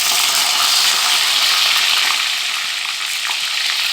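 Onion frying in hot oil with mustard seeds and green chillies for a bitter gourd fry: a dense, steady sizzle and crackle, loud and close, with no talk over it.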